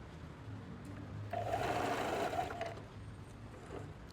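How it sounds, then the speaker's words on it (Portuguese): A sewing machine runs a safety seam on trousers, a steady close mechanical whir that swells for about a second in the middle before settling back to a lower hum. "E vou fazer uma costura de segurança."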